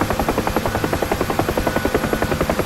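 A UH-1H Huey helicopter in the DCS flight simulator flies steadily, its rotor beating a fast, even whump-whump rhythm over a low turbine drone, loud and close with no voices.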